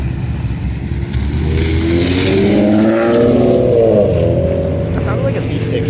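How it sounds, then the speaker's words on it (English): A V6 car engine revving at a car meet, a loud, close rising roar that climbs in pitch and holds, over a constant rumbling crowd background. "That sounded like a V6, bro."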